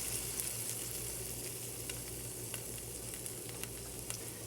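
Stuffed pancakes cook three at a time in a hot pan over medium flame, producing a soft, steady sizzle with faint crackles and a low hum beneath.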